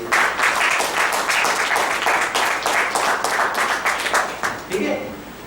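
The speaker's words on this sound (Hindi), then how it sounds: "तो इस मोनोपोली लिए भी एक ताली होनी चाहिए" An audience at a Hindi lecture bursts into applause, a dense, steady clatter of many hands lasting several seconds before fading out.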